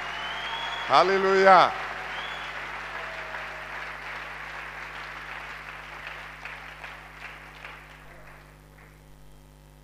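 A church congregation bursts into applause and cheering, a loud burst early on that settles into sustained clapping fading over several seconds, with a voice briefly calling out over the room hum.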